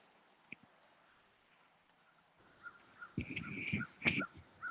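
Crows caw a few times at moderate distance, harsh calls rising toward the end against faint background noise.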